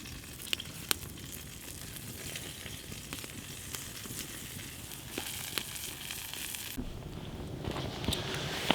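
Bread frying in a pan over a campfire, a steady close sizzle and crackle with occasional small pops and scrapes, heard without talking.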